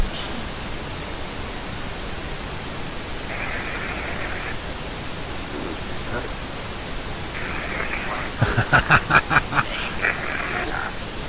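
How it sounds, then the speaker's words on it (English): A DR60 recorder generates steady broadband pink noise, a constant hiss throughout. Brief brighter bursts come midway, and a quick run of rhythmic pulses sounds near the end. "white noise burst from the DR60, the necrophonic app going, and pink noise generation"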